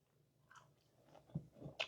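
Crunchy fried shrimp being chewed close up, a few crisp bites and crunches in the second half of a short, otherwise quiet moment.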